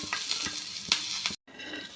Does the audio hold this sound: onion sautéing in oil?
yes